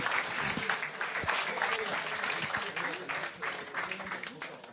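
A crowd claps steadily in a dense, continuous round of applause, moderately distant, with voices faintly audible underneath.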